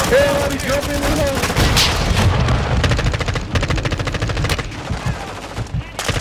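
Rapid automatic gunfire and heavy shooting from the video game Warzone 2 rattle almost continuously in loud bursts, with booming shots layered together while players' voices shout over the fight.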